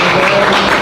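An audience claps at a church testimony gathering, a short burst of dense, loud applause filling the space with no talk over it.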